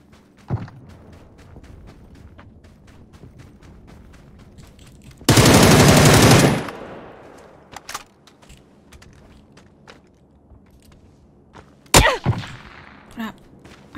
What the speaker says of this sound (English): He's getting shot by the SM-24?